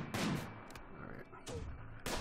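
Turret gunfire in the video game RimWorld, three or four sharp shots spaced across a couple of seconds, with a faint steady tone underneath.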